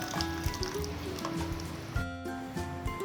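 Shev bhaji curry boils in a pan with steady bubbling and soft popping, heard up close and continuous.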